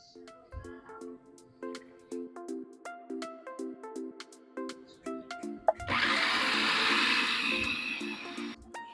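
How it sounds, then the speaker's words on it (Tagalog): A food processor grinds ube with milk, a loud, steady whirring roar that starts abruptly partway through after quieter music-like tones. "Gumamit po kayo ng food processor, lagyan na lang natin ng gatas para madurog na mabuti."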